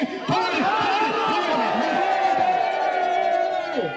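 Crowd noise at a vigil in Federation Square for an Indian Australian community gathering, with loud chanting and cheering voices rising together in rhythmic waves.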